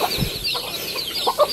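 Rooster clucking and calling on a rural farm in Quezon Province, Philippines, a short close burst of fowl vocalizations over outdoor background noise.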